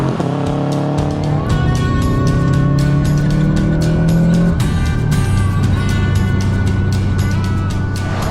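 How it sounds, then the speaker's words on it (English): A Subaru STI's exhaust drones steadily from inside the cabin while driving, a loud continuous engine note with rising and falling pitch as the car accelerates and shifts. "from inside the car, the exhaust sounds pretty much the same as it did before, if not quieter"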